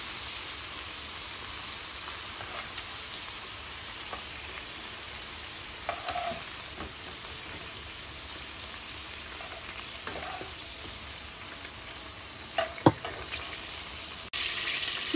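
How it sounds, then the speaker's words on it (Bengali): Sliced onions deep-frying into crisp golden birista in hot oil for a king prawn curry, a steady close hiss with a few sharper spits and crackles throughout. "অলমোস্ট আমার পেঁয়াজ বেরেস্তাগুলো রেডি হয়ে যায়, আর একটু সময় ফ্রাই হইব।"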